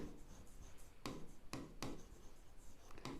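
Pen or marker writing out a linear equation in a maths lesson, quiet close scratching strokes with a few sharp taps as the tip meets the surface.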